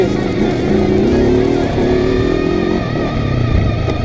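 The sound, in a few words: Honda TRX 500 Foreman ATV engine lugging in 4th gear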